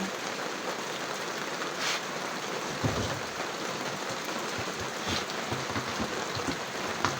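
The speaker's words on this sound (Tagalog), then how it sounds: "Ano pa lang naman siya, ulan." Steady rain falls as Typhoon Kalmaegi (Tino) approaches in the Philippines, a constant close hiss of drops hitting surfaces with no voices.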